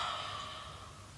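A soft, slow exhale through the mouth during a yoga breathing exercise, a faint breathy sigh that fades gently over about a second.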